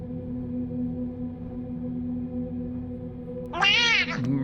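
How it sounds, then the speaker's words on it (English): One rising and falling meow near the end, heard over a low, steady hum during Outer Wilds gameplay. "Meow."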